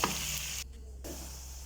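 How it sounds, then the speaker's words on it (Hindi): Garlic ginger paste and onion frying in a pan give a dense, steady sizzle, briefly cut off for a moment before resuming. "लहसुन अदरक के पेस्ट को बहुत अच्छे से भून लेना है"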